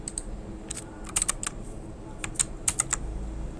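Keys on a computer keyboard are tapped for shortcuts while laying out a PCB in KiCad, giving scattered light clicks in small clusters, close up and fairly quiet over a faint background hum.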